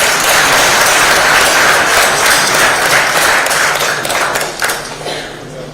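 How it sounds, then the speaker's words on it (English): Audience at a green technology forum applauds loudly and continuously, a dense wash of clapping that holds steady for about five seconds before starting to thin out. "Please give them a huge round of applause."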